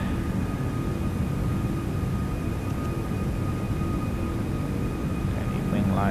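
Simulated Airbus A340-600 jet engines in X-Plane 12 hold a steady, loud roar with faint tonal whine throughout, alongside cockpit voice chatter during climb after flaps up.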